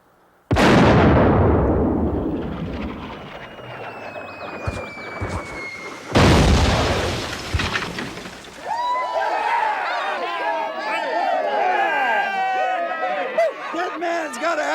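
A cannon fires in an Alamo battle scene with a loud, sudden boom, and a second heavy blast follows a few seconds later. Shouting and cheering voices rise afterward.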